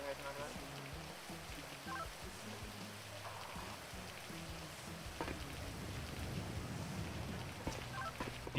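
Steady video-game rain in GTA 5 hisses and patters throughout, with a low murmur of voices underneath.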